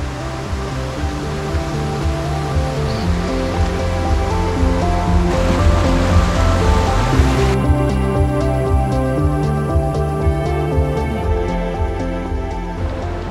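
Rushing river water and Casaroro Falls in Negros, Philippines, after Typhoon Odette, make a loud, continuous broadband roar of churning water, close and steady throughout, with no talk.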